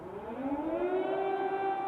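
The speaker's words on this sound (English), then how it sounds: "Sirens are now more frequent," Air raid sirens wailing over Kyiv during wartime, a loud sustained rising and falling tone with layered harmonics that holds steady across the whole stretch, with no voices.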